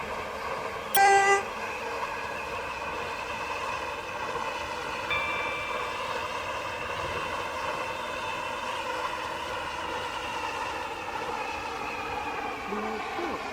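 In the Roblox Stepford County Railway game, a Waterline train rolls along at a steady pace with a sustained, harmonic motor whine. A short horn-like tone sounds near the start, and no one speaks.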